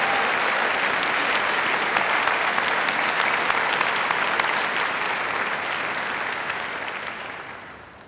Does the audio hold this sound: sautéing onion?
no